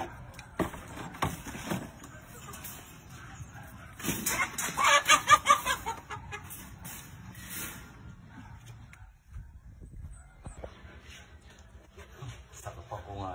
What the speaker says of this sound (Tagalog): Pakainin mo daw yung manok ni Amon.